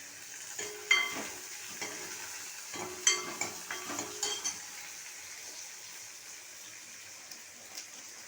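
Small onions and curry leaves sauté in a pan for a chicken liver gravy, making a quiet, steady sizzle broken by a few scattered spatula scrapes and clinks, heard without any voices.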